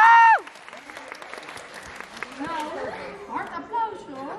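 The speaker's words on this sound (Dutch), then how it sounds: "Dan gaan we klappen." An audience at a live show in Bergen op Zoom claps on cue. A short burst of clapping is mixed with children's cheers and excited chatter that rise and fall over a few seconds.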